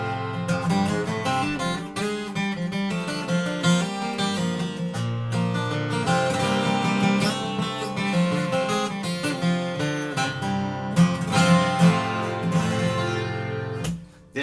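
A 12-string acoustic guitar strung with D'Addario EJ37 strings, tuned down a whole tone, plays a continuous strummed and picked passage of rich, ringing chords, close and steady throughout with no talking.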